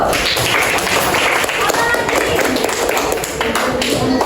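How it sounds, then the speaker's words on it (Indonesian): Dense, loud applause from a class of students clapping in a classroom, steady and continuous throughout with voices mixed in. "berikan tepuk tangan dulu"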